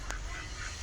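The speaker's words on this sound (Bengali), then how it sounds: "না, এগুলো দেশি পাতি হাঁস, বড় বড়" Native Bangladeshi domestic ducks, large desi ducks, giving a short honking quack over a busy outdoor background, one brief call near the start.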